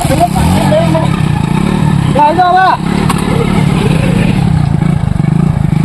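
A motorcycle engine idles and revs nearby while several people talk loudly over it.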